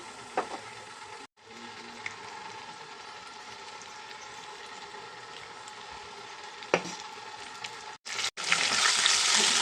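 Cumin and mustard seeds go into hot frying oil in a pan and sizzle steadily and close up. Scattered pops and a short break come partway through, then a louder, fuller burst of sizzling near the end. No voices.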